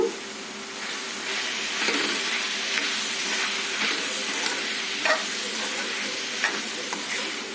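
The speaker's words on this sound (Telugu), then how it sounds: "ఇందులోనే వేయించుకున్న ధనియాల పొడి 1/2 స్పూన్ వేసుకొని కలుపుకుందాము." A bean and tomato curry with roasted coriander powder sizzles steadily in a pan as a spoon stirs it with repeated scraping strokes, close up and loud, with no talking.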